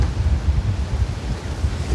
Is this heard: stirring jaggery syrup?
no